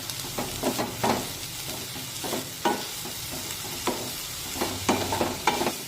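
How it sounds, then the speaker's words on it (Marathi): Jaggery being stirred into freshly grated coconut in a pan, a spoon scraping and swishing in soft repeated strokes with faint sizzling underneath, close and steady with no talking. "गुळ खोबऱ्यामध्ये छानपैकी मिक्स झालेला आहे"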